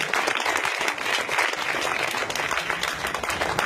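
A church congregation claps together in praise during an evening service, a dense, continuous burst of many hands close by with little talk over it.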